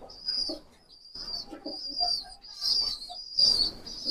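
Male pigeon of a teddy breed cooing near and clearly in repeated soft phrases, with a few brief chirps, and no talk.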